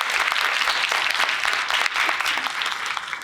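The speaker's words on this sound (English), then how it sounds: "let's give them a round of applause for being here" An audience claps steadily, a dense patter of many hands applauding continuously without cheering.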